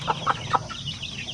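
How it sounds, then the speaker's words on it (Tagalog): Pure Basilan chicken chicks cheep and cluck close by in a brief, light run of a few high calls over a faint background. "Yan ang mga sisiw na pure basilan."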